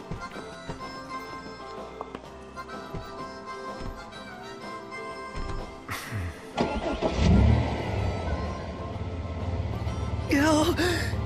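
The Regalia's car engine cranks and starts in Final Fantasy XV, after a quiet stretch of faint game sounds. It catches with a rising roar, then settles into a close, rumbling idle with a brief rev.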